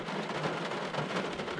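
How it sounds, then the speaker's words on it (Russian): Steady rain falls at an outdoor fishing spot during a carp and crucian fishing trip, a dense, even patter of drops close by that fills the short stretch without any voices. "Дождь идет, погодка, правда, не очень."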